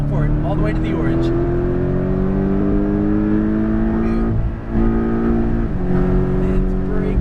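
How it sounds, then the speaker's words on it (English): A Porsche Cayman GTS pulls hard at full power on a race track, its engine note climbing steadily and loud from inside the car, with a brief dip as it shifts, while a voice talks over it. "Now full power to those orange cones"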